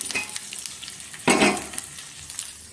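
Urad dal, cumin and fenugreek seeds with dried chilli and asafoetida tempering in hot oil, a close, steady sizzle that flares loudly as more spices drop in midway.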